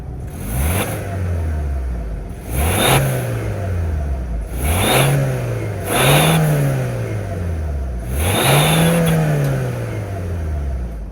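A 2024 Hyundai Santa Fe's turbocharged 2.5-liter four-cylinder revs five times, each blip rising sharply to a peak and sliding back down to idle, loud and close with no talking.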